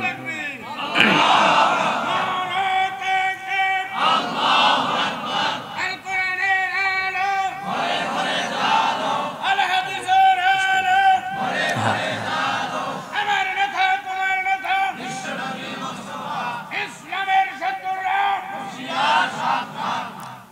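A large crowd chants the takbir in loud, repeated collective shouts, rising and falling in bursts throughout, during a religious sermon gathering in Pabna.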